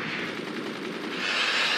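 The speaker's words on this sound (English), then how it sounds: "that's a machine gun" Machine gun fire in the Forts video game, a sustained rapid stream of shots that stays steady and mid-loud across a short burst, with no talk.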